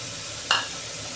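Fried lentil dumplings (bori) go into a frying pan and are stirred, a low steady sizzle with one short sharp scrape or clink partway through.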